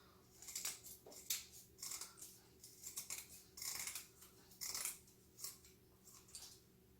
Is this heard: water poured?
no